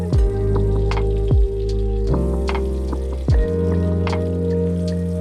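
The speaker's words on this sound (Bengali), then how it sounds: "আলুগুলোর মধ্যে হলুদ নুন মেখে ভেজে নিচ্ছি" Potato pieces coated in turmeric and salt fry in hot oil, a steady close sizzle with occasional stirring scrapes over a constant low tonal hum.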